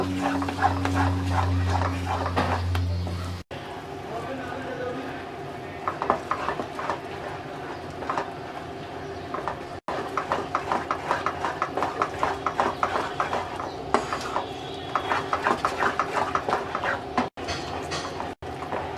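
Wheat halwa being stirred continuously in a pan as ghee begins to separate, a steady run of scraping, clicking spoon strokes against the pan, close and fairly loud, with a low hum and a few brief breaks.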